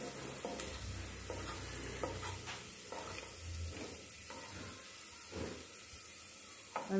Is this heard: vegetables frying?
yes